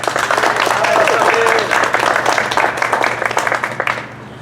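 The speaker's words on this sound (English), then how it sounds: "Can we get one more round of applause for her?" An audience at a community rally against pesticides gives a round of applause, steady dense clapping with a low hum beneath, fading out near the end.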